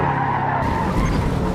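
Tyres skid and squeal as the back end of a race car slides in Forza Motorsport (2023). The skid holds steady and loud for the whole moment under a droning engine, and no one talks.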